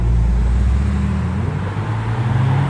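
A Lamborghini LP640 supercar with an aftermarket, non-stock exhaust rumbles past at a supercar event, a loud continuous low engine drone with shifting pitch as it moves by, no talking over it.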